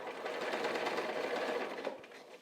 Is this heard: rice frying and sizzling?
no